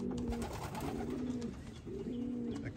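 Pigeons coo steadily in a loft of young birds, their low repeated calls rising and falling in a looping rhythm at close range with no talk over them.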